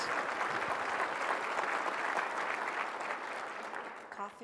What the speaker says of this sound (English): Let's give another round of applause for Ken Fisher